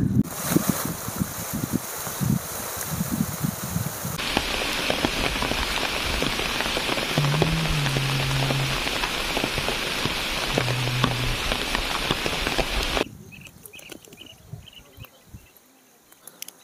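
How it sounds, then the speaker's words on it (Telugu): Heavy rain pours down steadily and loud in a broadband hiss for most of the stretch, then cuts back to a lighter patter near the end, with faint insect chirps underneath. "వర్షం అయితే కొంచెం గట్టిగానే వచ్చింది"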